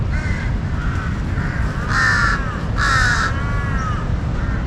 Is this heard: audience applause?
no